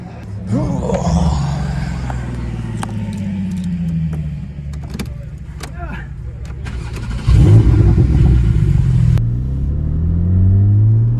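Porsche GT4 engine pulling out onto a race track, a loud steady rumble rising in revs with a surge in power partway through, the car close and continuous throughout.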